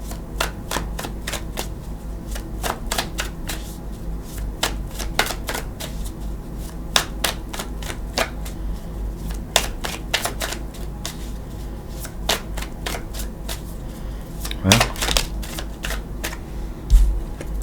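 Tarot cards are shuffled over and over, a long run of crisp riffling clicks and flicks in uneven bursts, close by with no talking.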